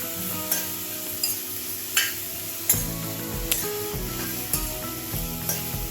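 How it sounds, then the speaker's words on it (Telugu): Salted bitter gourd pieces dry-fry in a pan without oil, with a continuous low sizzle and regular, distinct scraping strokes as they are stirred about once a second. "ఇదే మూకుల్లో మనం కాకరకాయ ముక్కలు వేయించుకుందామండి"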